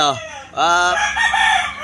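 On a chicken farm, a rooster crows loudly and close, one drawn-out cock-a-doodle-doo followed by short clucking from nearby chickens.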